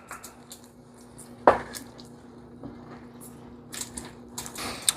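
A small bar of unsweetened dark chocolate lands in a pot of black-eyed peas and ham with one soft, close squishy plop, followed by faint kitchen clatter.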